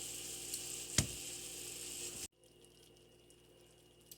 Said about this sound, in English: our ground beef is still browning